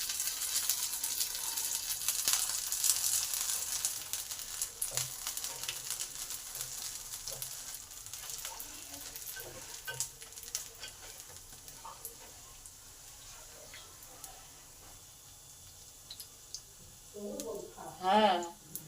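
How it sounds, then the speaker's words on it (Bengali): Vegetable chops fry in oil with a steady, quiet sizzle that crackles throughout, with clinks of a spoon turning them near the end. "দুদিকে আমার গোল্ডেন কালার করে ভাজা হয়ে গেছে"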